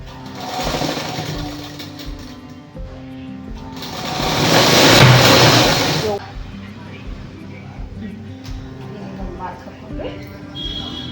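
A sewing machine stitching the side seam of a blouse runs in close, whirring bursts, swelling louder for a couple of seconds in the middle before slowing and stopping.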